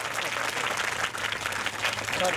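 Loud, dense applause from an audience at a school event, a continuous wash of many hands clapping together with crowd murmur underneath throughout.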